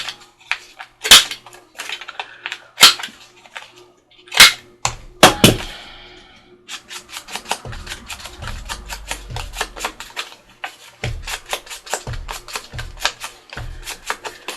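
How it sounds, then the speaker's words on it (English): A handheld corner punch rounds the corners of scrap paper page tabs, giving several sharp, isolated snaps spaced a second or two apart, followed by a busier run of lighter clicks and paper rustling. "I think I'm going to round the corners."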